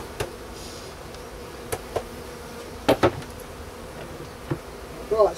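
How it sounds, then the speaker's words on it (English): Honey bees buzz steadily around an opened hive during an early spring inspection, a dense close drone broken by a few sharp knocks and clunks. "Shake the bees off."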